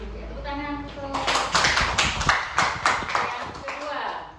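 A classroom bursts into applause, a dense run of claps with uneven sharp slaps that swells and then fades slightly over several seconds.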